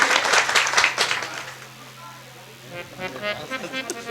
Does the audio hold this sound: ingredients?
no